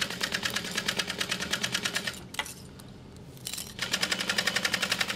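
A sewing machine stitches fabric in steady rapid bursts, pausing briefly midway before resuming the same even mechanical rhythm, close and loud.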